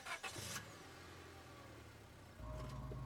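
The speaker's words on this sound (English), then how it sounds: "the car cuts along the darkened road" Car engine in the Scarlet Hollow video game, a steady low drone on a darkened road, with a brief rise at the start and the engine swelling louder near the end.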